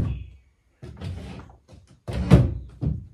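Drawer or cupboard being opened and shut while tidying a bedroom during house cleaning: several close, separate wooden knocks and slides, with a heavier thunk near the end and short quiet gaps between them.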